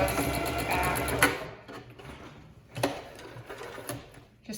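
A sewing machine backstitching across tote bag handles, running in a fast mechanical patter with brief pauses and restarts, close by.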